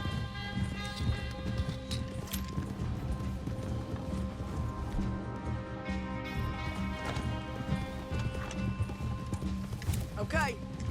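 Horses clip-clopping in the Red Dead Redemption 2 video game, steady hoofbeats under continuous talking and background music throughout.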